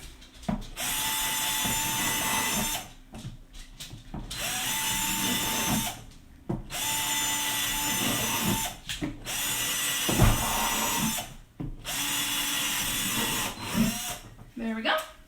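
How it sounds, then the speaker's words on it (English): A power drill bores drainage holes through the bottom of a plastic planter in four long whining bursts separated by short pauses, loud and close, with brief talk in the gaps. "So I'm gonna drill a few extras."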